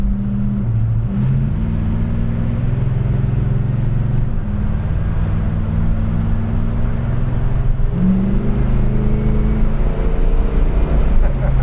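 Steady low engine drone from a 1971 Oldsmobile 442 W-30 with a slight hesitation, its pitch stepping and wavering, heard from inside the car throughout with occasional quiet talk.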